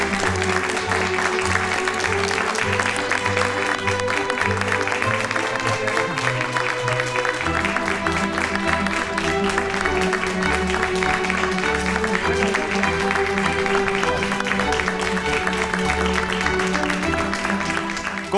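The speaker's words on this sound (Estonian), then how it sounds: "palun eriti suur aplaus" Audience applause for the winner of a young cleaning-services professional competition, steady and continuous under loud music with a strong low beat throughout.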